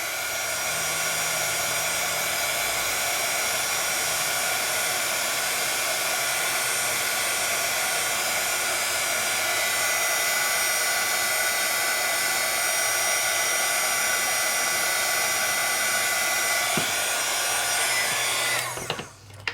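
A heat tool blows steadily and loudly to heat-set paint on a dot-style craft kit project, a constant rushing whir that runs almost the whole time before cutting off near the end.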